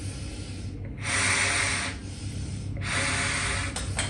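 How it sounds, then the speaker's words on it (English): Air pushed through a kudu horn shofar during airflow testing gives two loud breathy rushes of hissing air, each about a second long, separated by short pauses, close up with no talking. "You can hear the sound, the airflow."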